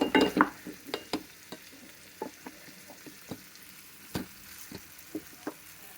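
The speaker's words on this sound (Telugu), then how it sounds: "మ్యాష్ చేసుకోవాలండి" A large roasted brinjal is mashed for yogurt chutney, giving a string of soft, wet squelches and taps at an uneven pace, close and alone with no talking.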